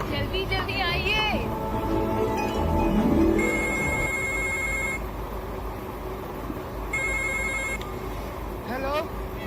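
A telephone rings in two bursts of electronic ringing over a noisy room, with people talking loudly around it and a voice calling out.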